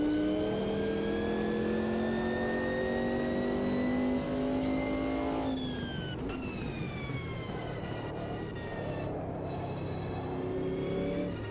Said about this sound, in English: considering how much of a beast these Group C cars are